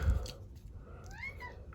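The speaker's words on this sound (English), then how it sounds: "you probably hear my daughter's cat Lightning in the background there" A pet cat named Lightning meows twice somewhere in the room, rising and falling and fairly quiet, behind a low steady background hum.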